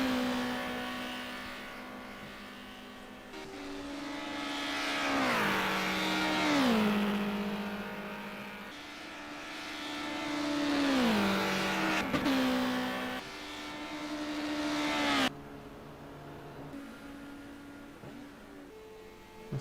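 Race cars lapping the High Speed Ring in a TCM round, engines rising and falling in pitch through gear changes and passes, loud and near, with nobody talking.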